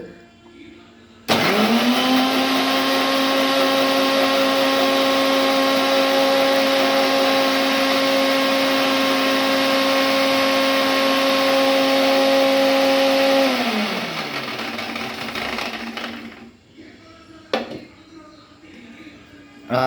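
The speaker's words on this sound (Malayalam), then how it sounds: "മിക്സിയുടെ ജാറ് വെച്ച് മിക്സിയിലിട്ട് അടിക്കുകയാണ്" A mixer grinder blending chutney whirs loudly with a steady high-pitched motor whine for about twelve seconds, then winds down and stops, leaving a few clatters.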